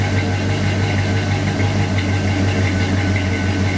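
A GMC truck's 305 V8 engine runs with a loud, steady low rumble and an even idle vibration, close and continuous for the whole few seconds.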